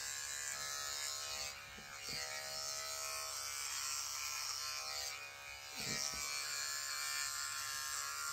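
An electric shaver buzzes steadily while trimming facial hair around a moustache, loud and close, with two short dips where the blade lifts from the skin before resuming.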